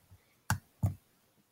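A computer mouse gives two sharp, close clicks about a third of a second apart, with quiet between them and no talking.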